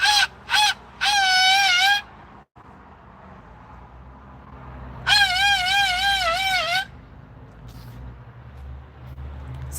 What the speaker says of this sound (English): cockatoos can be loud